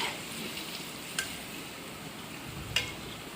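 Vegetables sautéing in oil in a karahi for a chicken vegetable karahi give off a faint, steady sizzling hiss, broken by two brief sharp clinks.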